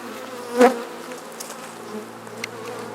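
Honey bees hum around a hive frame of pollen in a soft, steady outdoor buzz, with a brief louder thump or rustle near the start as the frame is handled.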